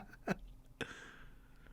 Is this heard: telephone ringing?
no